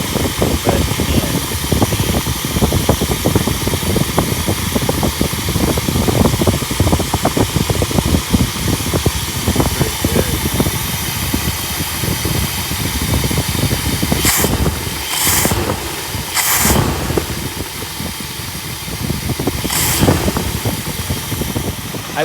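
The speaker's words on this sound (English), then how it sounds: "I've never heard this car run this good" A 1961 Buick engine idles steadily after an Edelbrock carburetor install, a continuous loud rumble running throughout, with a few brief hissing bursts near the end.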